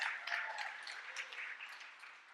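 An audience applauds after a talk on the science and technology of human connection, with a soft, steady spatter of clapping that slowly tapers off and no voices over it.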